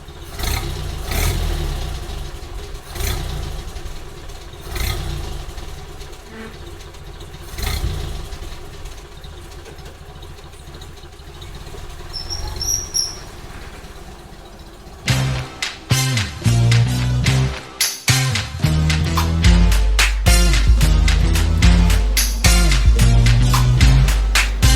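A 1931 Ford Model A driving with its engine running: a steady mid-pitched hum for the first stretch, then a louder, busier section of revving and clattering mechanical noise with no talking.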